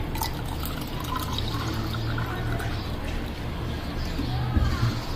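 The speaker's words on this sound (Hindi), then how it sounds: "बर्फ़ की क्यूब्स डाल रहे हैं और उसके बाद ठंडा पानी डाल के मिक्स कर लें।" Cold water is poured over ice cubes for a raw mango drink, a steady close splashing and trickling with faint background noise.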